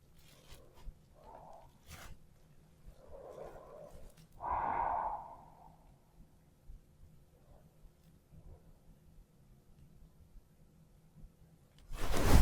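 Slow, audible breaths during a yoga stretch for the shoulders and back, soft inhales and exhales spaced out in a quiet room, one fuller exhale in the middle, then near silence.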